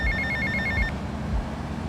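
Payphone ringing in Grand Theft Auto Vice City, a quick repeated electronic bell trill that rings for just under a second and then cuts off, leaving a steady low game ambience with no voices.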